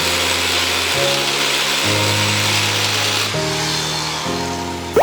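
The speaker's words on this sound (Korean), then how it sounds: "앙카가 들어가지 않은 부분에 12mm 외지 앙카를 박아줍니다." Power drill boring into a steel plate to set 12mm anchor bolts during building reinforcement work, a loud continuous whine that steps between pitches as the load changes, with no one talking.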